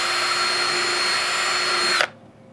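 A power drill fitted with a 1/8-inch bit bores a hole in a tree trunk, giving a steady high whine for about two seconds before it cuts off abruptly, leaving near silence.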